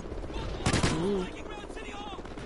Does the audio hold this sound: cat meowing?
no